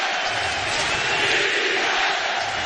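A basketball arena crowd roars and cheers at an NBA playoff game between the Jazz and Rockets, a dense, sustained wash of voices that swells slightly in the middle.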